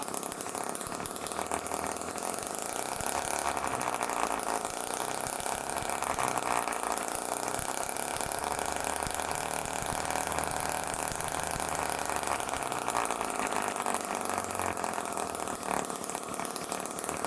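A homemade internal combustion engine built from an old compressor idles steadily and loudly, a dense continuous mechanical drone with a chainsaw-like buzz and no pauses throughout.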